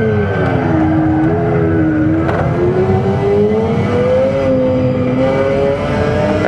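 A McLaren F1 GTR race car in a racing video game, its engine droning and revving steadily with pitch rising and falling under throttle, loud and continuous with no talking.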